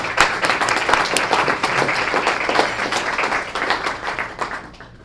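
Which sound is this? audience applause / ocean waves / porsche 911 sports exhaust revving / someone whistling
audience applause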